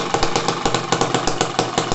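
A tiny Microcosm M19 hit-and-miss model engine runs steadily close up, its quick regular chuffing and firing beats repeating evenly without any speech.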